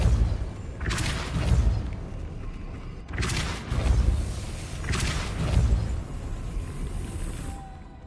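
Spell effects from the Hogwarts Legacy video game: three heavy, booming whooshes land a couple of seconds apart, each a deep thud with a rushing burst over low rumbling ambience.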